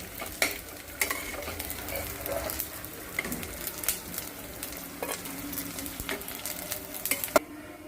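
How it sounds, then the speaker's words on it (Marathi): Bombil (Bombay duck) fish fry crisply in oil in a pan, a steady close sizzle broken by regular scraping and tapping of a spatula turning the pieces. "आपले बोंबील छान परतवत आलेले आहेत मस्त असं कंटिन्यू आपण असे परतवून घेतले कुरकुरीत झालेले आहेत बोंबील"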